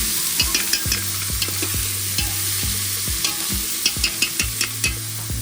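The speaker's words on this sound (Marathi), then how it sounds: "आपला बारीक कांदा झाला आपल्याला थोडंसं मरून होईपर्यंत" Finely chopped onions fry in oil in a pan for mutton biryani, a steady sizzle broken by frequent scraping strokes of a stirring spoon, close and fairly loud with no talking.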